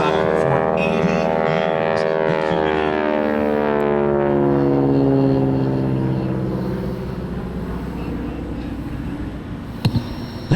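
Aerobatic propeller airplane flying a Cuban eight maneuver at the Blue Angels Homecoming airshow, a loud sustained engine drone with sweeping pitch shifts that rise and fall as the plane climbs and dives, fading slightly toward the end.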